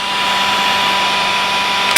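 Parkside cordless heat gun running on a 4 Ah battery, a steady close whooshing fan-and-air roar with a faint tonal whine, constant throughout with a brief click near the end.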